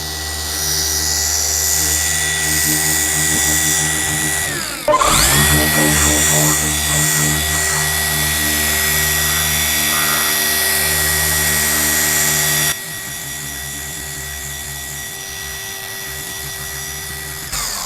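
A car polisher working compound into paint to repair bird-dropping damage, a loud continuous motor whine that briefly shifts pitch midway and then runs on at a lower level, no talking.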